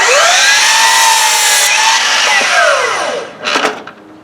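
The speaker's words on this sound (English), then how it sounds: "Miter saw works real good." A miter saw slices through cedar boards for a raised garden bed, its loud whining motor sweeping through a long cut, then spinning down, followed by a brief clatter near the end.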